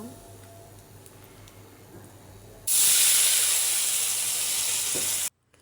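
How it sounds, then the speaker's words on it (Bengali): A splash of water hits cumin and spices frying in hot oil, bursting into a loud, sustained steamy hiss after a quiet stretch, then cutting off abruptly. "আবার একটু সামান্য জল দিলাম যেহেতু কষিয়ে নেব ভালো করে"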